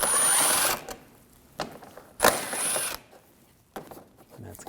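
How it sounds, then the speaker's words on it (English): An 8mm socket on a ratchet works screws loose on a 2007-2013 BMW 328i while the HID ballast control module is removed; several quick, close ratcheting bursts of clicking separated by short pauses. "Now take these two screws out,"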